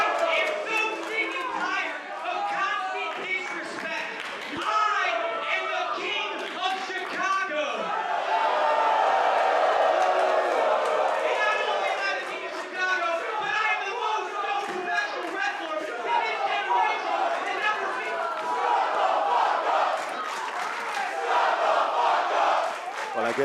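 Large wrestling crowd roaring and chanting in a packed arena, a dense, sustained wall of voices swelling louder midway, with a commentator talking over it.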